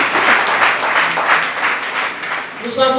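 At a wedding, guests give a steady round of applause for the bride's witnesses, clapping densely and fairly close, then tapering as a voice begins speaking near the end.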